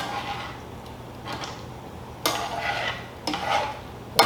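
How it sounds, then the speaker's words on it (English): Redfish pieces stirred around in a hot pan on a granite counter, with scraping utensil strokes at irregular intervals over a steady low hum, louder bursts near the middle and end. "Stir these around real good."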